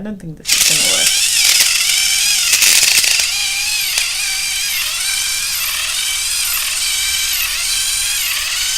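A Babyliss Twist Sec hair twisting tool runs with a steady high whirring motor hum, starting abruptly and continuing loud and even near the mic, with a person speaking over it.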